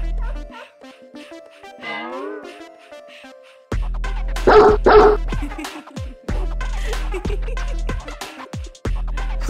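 Dogs bark and yip in several sharp bursts after a quiet, whining start, close and loud against a steady low hum.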